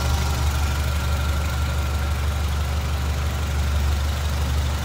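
A 1930 Ford Model A Tudor sedan's engine idles steadily up close, a loud, even low-pitched rumble with a fast regular beat, no voices over it.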